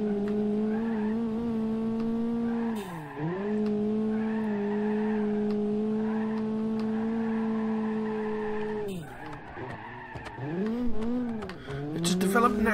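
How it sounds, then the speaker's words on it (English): A car in the BeamNG.Drive racing game is driven hard on a time trial. Its engine drones loudly at high revs, dipping briefly as it shifts or lifts, while the tires squeal and skid close by. "Pushing this car as hard as I can."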